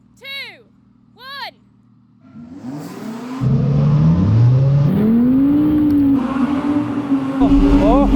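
Audi R8 on winter tires launching hard in a drag race with stability control off and manual gearbox mode, engine climbing loud and close through the gears after a few short countdown beeps.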